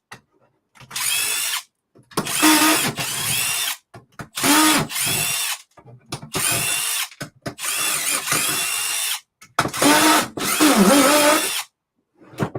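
A Milwaukee high output power drill drives screws in repeated bursts, each a few seconds of loud whirring separated by short pauses, close to the listener, with no talk over it.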